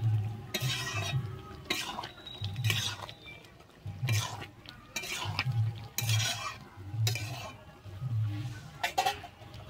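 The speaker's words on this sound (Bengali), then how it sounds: "আর দিচ্ছি ধনেপাতা কুচি দিয়ে আমি কিন্তু আবারও ভালোভাবে মিশিয়ে নিচ্ছি" Yellow pea curry (ghugni with mutton fat and chopped coriander) being stirred in a pan, a series of rhythmic scraping strokes of a spoon against metal, close and fairly loud, with a soft background sizzle.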